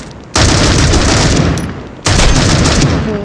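Gunfire in the mobile shooter Critical Ops, two loud sustained bursts of rapid automatic fire close up, the first about a second and a half long, then a short pause before the second burst.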